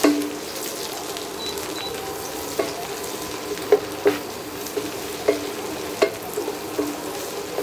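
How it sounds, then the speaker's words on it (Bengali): Chopped onions fry for a spicy goat head curry, making a constant close sizzle broken by sharp clinks and scrapes of a utensil stirring the pan, with no voices. "পেঁয়াজ কুচিটা দিয়ে একটু সময়ের জন্য আমি পেঁয়াজ কুচিটা ভেজে নিব।"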